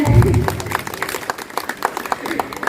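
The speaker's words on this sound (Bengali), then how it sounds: "জোরে একটা হাততালি হবে" Brief, scattered clapping from a small crowd, the claps rising and fading under a voice.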